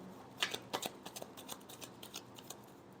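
Tarot cards are shuffled by hand in a quick run of crisp riffling flicks, several sharp snaps early then lighter repeated patters, close and alone.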